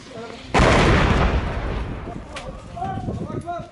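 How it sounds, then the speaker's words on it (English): A mortar round explodes just behind a building at the edge of the Abu ad-Duhur Air Force Base in Syria. One sudden, heavy boom rolls out and fades over a couple of seconds, then voices follow. "A mortar round lands just behind their building."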